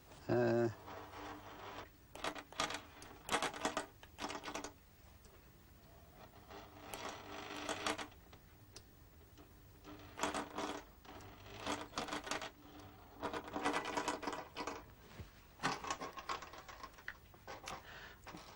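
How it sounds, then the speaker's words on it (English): A demonstration stepper motor drives a sewing machine needle, giving bursts of rapid mechanical clicking and whirring that start and stop in irregular runs, with a voice speaking at times between them. "I think you can see the stepper motor moving the needle"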